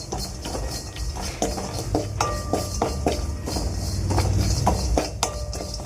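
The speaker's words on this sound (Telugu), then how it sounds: "జీడిపప్పుని ఇట్లా సన్నటి సెగ మీద కొద్దిసేపు వేయించుకోండి." Cashews roasting in a pan over a low flame, heard as close, repeated scraping, clinking and stirring of a metal utensil against the pan, with no talking.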